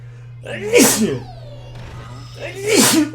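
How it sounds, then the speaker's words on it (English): A person sneezes twice during a Skylanders: Spyro's Adventure gaming session, two sharp loud bursts about two seconds apart, each with a breathy intake before the explosive release, over a steady low hum. "Oh, we got to sneeze."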